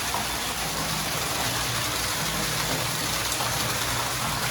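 Water gushes hard and continuously from a newly drilled 150-foot borewell, a loud steady hissing rush with a low rumble underneath and no letup.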